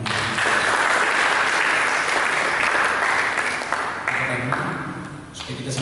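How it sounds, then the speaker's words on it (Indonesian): Sustained applause from a church congregation during a sermon, steady and dense throughout, with a faint tone or voice underneath and tapering slightly at the end. "Mari kita berikan tepuk tangan."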